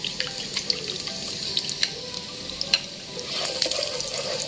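Garlic frying on high flame for fried rice, a close crackling sizzle with repeated sharp spatula clicks and scrapes against the pan, no talking.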